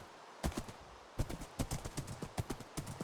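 Horse hooves clip-clop in Minecraft, a steady run of sharp, close hoof strikes in a quick, slightly uneven rhythm after a brief pause.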